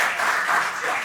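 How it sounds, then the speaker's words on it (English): Brief, loud applause rises from the audience at an investing seminar on stocks, a dense clatter of many hands that swells and dips slightly over about a second. "Let's see now the round of applause and how loud it is determines better"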